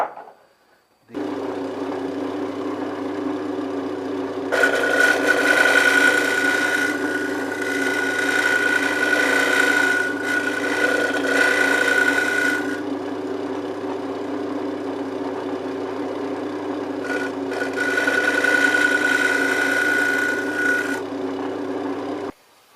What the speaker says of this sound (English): we can clean that up with a bit of sandpaper